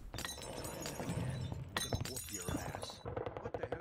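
Beer bottles shatter in Half-Life 2 gameplay, a sharp glass break cutting through dense background sound with talking in the scene.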